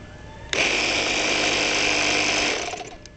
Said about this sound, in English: because it's got a compressor on it